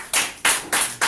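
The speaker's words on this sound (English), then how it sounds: "Let me clap for this man." A single person claps hands four times in slow, even succession, each clap sharp and close.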